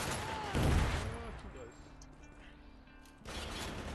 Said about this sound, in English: I somehow missed those shots.